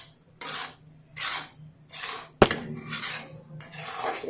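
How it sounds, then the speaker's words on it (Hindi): A spoon scraping and stirring semolina and milk halwa in a pan, repeated rhythmic rasping strokes with one sharp metallic knock midway, close and clear, no talking. "इसे इस तरह से मिलाते रहेंगे।"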